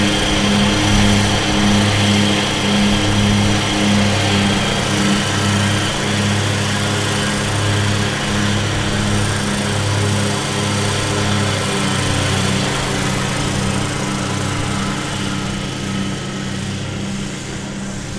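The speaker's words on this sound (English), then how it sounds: "a two-cylinder engine providing the background sound" A two-cylinder engine runs steadily in the background at an airport plane-spotting spot, a continuous, even drone with a throbbing low beat that holds for the whole stretch without talk.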